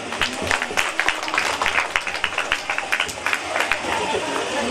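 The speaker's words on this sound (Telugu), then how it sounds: "చప్పట్లు కొట్టండి" Audience clapping at an Ambedkar Jayanti celebration in Ponnamanda, a steady rapid patter of many hands applauding throughout, with crowd murmur underneath.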